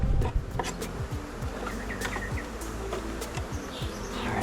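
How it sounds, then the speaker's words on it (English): A honey bee swarm buzzes densely inside a deep hive box, a loud continuous drone close by, with individual bees whizzing past and faint bird chirps in the background. "A ton of bees in here."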